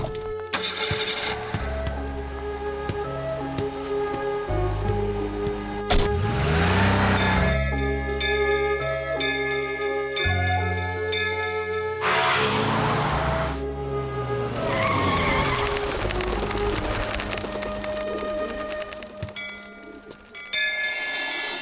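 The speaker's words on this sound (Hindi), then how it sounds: "गाड़ी स्टार्ट करो।" A car in a dubbed South Indian action film starts up and drives off with loud tire squeals and skids, layered with dramatic music and effects throughout, all loud and close.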